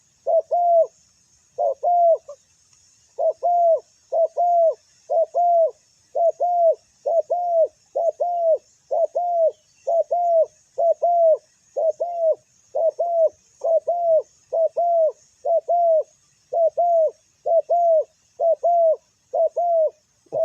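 Spotted dove cooing at a wild-bird site, a steady run of near, loud, even-paced coo phrases repeated about twenty times with short gaps and no talk.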